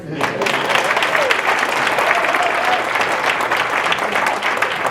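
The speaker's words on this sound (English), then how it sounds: "she needs a round of applause for that" Loud sustained applause from an indoor audience at a school district award ceremony, steady clapping that fills the whole stretch without pause.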